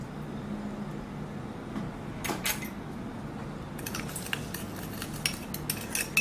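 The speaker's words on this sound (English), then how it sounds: "And 2 tablespoons of fish sauce. Get that nice and mixed up in there." Sugar and fish sauce being mixed in a bowl for pad kee mao, with a utensil scraping and clinking against the bowl, first sparse, then a steadier run of close taps and scrapes over a low background hum.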